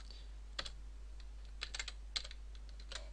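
Short, scattered bursts of clicky keystrokes on a computer keyboard while code is typed, close and fairly quiet over a steady low hum, with no talking.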